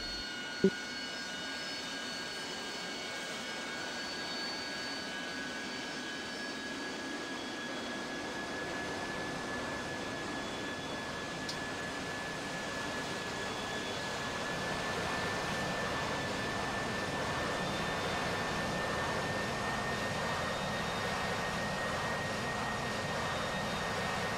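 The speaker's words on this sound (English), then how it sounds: "I was going to just very briefly try and do a vertical takeoff" A jet aircraft in the DCS flight simulator attempting a vertical takeoff gives a steady, continuous engine roar and whine that stays level and slowly builds a little, with no talking.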